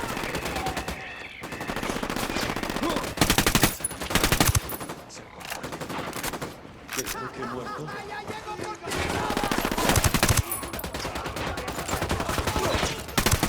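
Gunfire in the Ghost Recon video game comes as loud bursts of automatic fire in repeated volleys, with short lulls between them and a voice speaking over parts of it.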